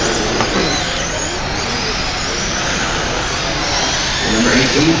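Sprint car racing engines roar steadily at a Chili Bowl Jr. dirt track race, a dense continuous motor drone with a slight swell near the end, while an announcer talks over the noise.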